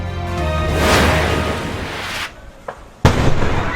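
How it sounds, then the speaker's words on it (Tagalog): Roaring, crackling noise of a house fire, then an LPG tank explodes near the end in a sudden sharp blast that leaves a loud rumbling burst. "Sa inisyal na investigasyon, tangke ng LPG ang sumabog."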